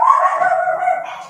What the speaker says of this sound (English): Oh, I got dogs.